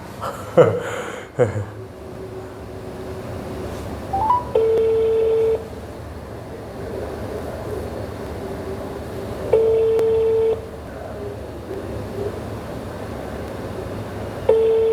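A telephone call being placed to someone at home: short dialing tones, then repeated electronic ringback beeps at even intervals, with faint murmuring voices at the start.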